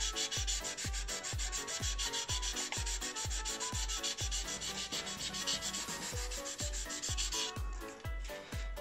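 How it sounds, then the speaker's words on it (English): A 1000-grit softback sanding sponge stick rubs back and forth in steady, rapid strokes, close and fairly loud, with a regular scratchy rhythm and no talking. "So now I'm going to move up to a 1000 grit to see what that does."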